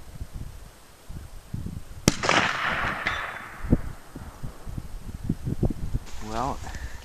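A rifle firing a Hornady 180-grain spire point bullet at about 2600 feet per second toward a target 250 yards out cracks once, sharp and loud, then a faint distant report follows amid outdoor rustle and quiet talk.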